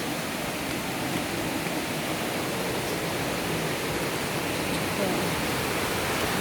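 A waterfall sends out a steady, loud roar of rushing water, broad and continuous from close by, with no other sounds standing out.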